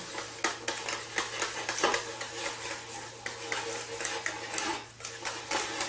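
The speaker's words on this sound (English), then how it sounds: "now we're going to just mix this in, stirring the whole time" Bechamel sauce, bound with eggs, being stirred steadily in a pot: continuous close scraping and clinking of a utensil against the pot, loud and busy throughout with no voices.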